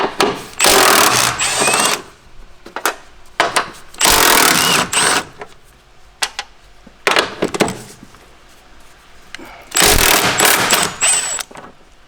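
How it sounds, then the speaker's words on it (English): Top nuts being removed from a coilover on a Nissan S15 Silvia Varietta with a power tool: several loud whirring bursts of a few seconds each, separated by quiet gaps with faint clinks and handling noises. "now we can take off the 3 nuts"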